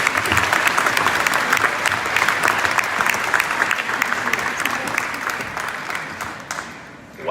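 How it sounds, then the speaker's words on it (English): Outdoor crowd applause at an Italian Heritage Month celebration at Vaughan City Hall: sustained, dense clapping from a large audience that carries on steadily for several seconds before tapering off at the end. "please ask everyone to give us a round of applause"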